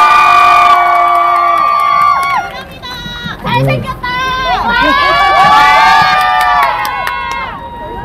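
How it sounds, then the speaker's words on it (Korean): Crowd at a political rally outside a party headquarters, held to protest a cutoff, cheers and claps loudly for a former party leader, with shrill shouts and excited voices swelling over the full stretch. "큰 박수 좀 부탁드리겠습니다"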